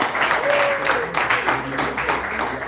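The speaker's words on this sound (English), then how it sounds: "Please, a round of applause for them." Audience applause at a youth community event at Ikawa Kafe in Rwanda, steady dense clapping from a crowd throughout, with a brief voice heard faintly beneath it.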